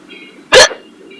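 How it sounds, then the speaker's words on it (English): A single loud hiccup jolts out while driving, brief and percussive, close to the listener over the faint drone of the car interior. "now I have to drive home with hiccups"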